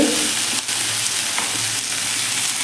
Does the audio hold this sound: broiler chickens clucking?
no